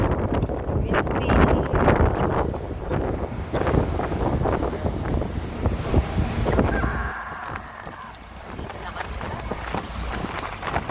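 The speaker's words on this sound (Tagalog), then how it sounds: "Windy." Strong wind buffets the microphone on an open-top sightseeing bus riding from Tsim Sha Tsui to Central, a loud, gusty rumble throughout, with people talking over it.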